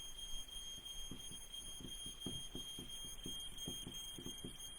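An alarm beeps steadily and fairly faintly in a room, a continuous high electronic tone over a low background with soft, rhythmic thumping beneath it.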